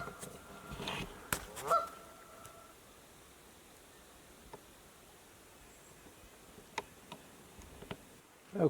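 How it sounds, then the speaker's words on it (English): Canada geese honk in a brief flurry around the second mark, with scattered fainter calls and small ticks over a quiet outdoor morning background. "A whole bunch of Canada geese entertaining me for the last hour."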